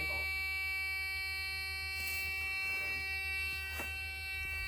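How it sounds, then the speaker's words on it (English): An old Freightliner cabover truck's warning buzzer drones steadily throughout, a constant tonal hum with faint clicks and shuffling around it. "Buzzer off."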